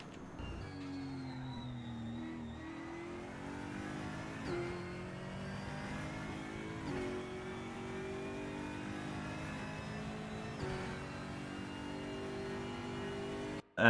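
A race car on the Mid-Ohio track in the Raceroom video game accelerates hard, its engine note climbing through several gear changes, loud and steady from start to finish.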